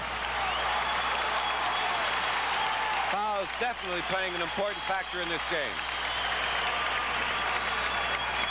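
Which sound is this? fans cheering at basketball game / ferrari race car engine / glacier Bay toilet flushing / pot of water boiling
fans cheering at basketball game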